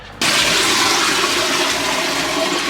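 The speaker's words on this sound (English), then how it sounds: "So just gonna put some borax in with plenty of water." Borax and water flushed down the toilet of a 20-year-old RV into its holding tank, a loud, steady rushing whoosh that starts abruptly and continues to the end.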